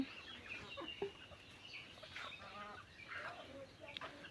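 Chickens clucking softly in a rural yard, several faint intermittent clucks and calls spread across the moment, fairly distant and low in level.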